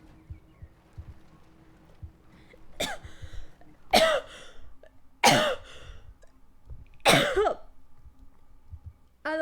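A person coughs in a fit, four harsh, loud bursts spaced about a second apart, with quieter throat noises and breathing between them against a faint steady background hum.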